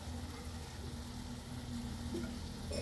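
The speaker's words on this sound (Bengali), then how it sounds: "এখন আপাতত শসা দিয়ে রান্না করি" Cucumber and lentils cooking together in a pan give a steady, close sizzle with a faint bubbling hiss that holds evenly throughout, with no voices.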